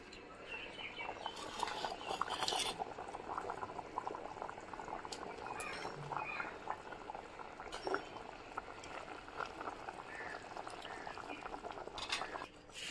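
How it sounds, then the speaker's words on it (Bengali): Liver curry, cooked with garam masala, bubbles and boils in a pot over a stove, a faint, steady simmer of small pops and gurgles. "তার আগেই টকবক করে ফুটছে।"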